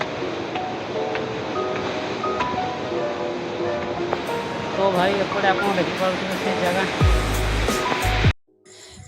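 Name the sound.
Khandadhar Waterfall in Sundargarh, Odisha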